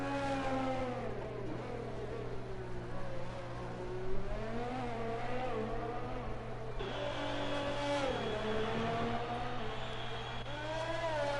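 Alfa Romeo F1 car on a hot lap around a video-game Vietnam Grand Prix circuit: a loud, continuous engine whine that climbs through the gears, dips sharply once mid-run, then revs back up, with no speech.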